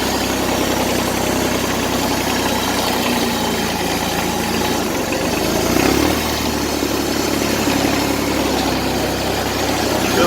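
A Kubota L295DT tractor with a loose rod runs at idle, giving a steady, loud, close rattling engine drone with a faint knock in it and no voices.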